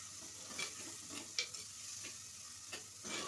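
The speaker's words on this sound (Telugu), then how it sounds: "ఈ ఉల్లిగడ్డలు కొంచెం ఫ్రై చేసుకోవాలండి. ఇప్పుడు తర్వాత 3 వట్టిమిరపకాయలు వేస్తున్నా అండి నేను, అవి తుంచి వేసుకొని బాగా ఫ్రై చేసుకోవాలి." Onions and broken dried red chillies fry in a pan with a soft, steady sizzle, and a few light stirring scrapes and taps come through at moderate distance.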